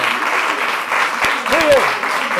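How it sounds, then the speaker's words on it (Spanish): Audience applause for dancers on a televised dance show, steady clapping with a voice exclaiming over it near the end. "un aplauso para ellas, por favor"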